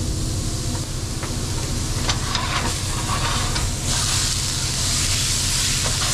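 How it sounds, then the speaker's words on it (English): Venison onion sausage browning in a pan, a steady loud sizzle and hiss with a few scraping stir sounds, swelling brighter in the second half, with no speech. "Starting out, we're gonna brown some sausage."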